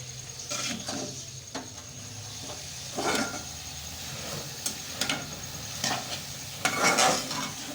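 Spiced potatoes with crushed coriander are stirred in a pan, giving a soft sizzle under repeated scraping and clinking of a utensil against metal, quiet and close.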